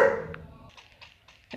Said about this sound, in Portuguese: Meu cachorrinho tava latindo.